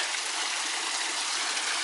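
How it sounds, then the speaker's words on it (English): The Fuente Madre del Agua waterfall in Tenerife gives a constant, broad rushing hiss of falling water, close and steady with no voices. "Fuente Madre del Agua Cascada waterfall. How beautiful is that?"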